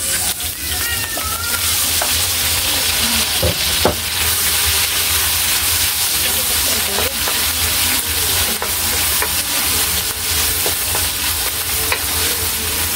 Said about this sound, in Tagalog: Igisa na po natin yung kamatis.